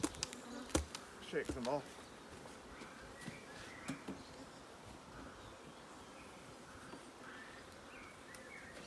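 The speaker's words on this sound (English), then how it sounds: "loads of bees on it" Honeybees hum around an opened hive as the crown board is lifted during a queen-cell inspection, a faint, steady drone with a few soft knocks and a brief spoken phrase near the start.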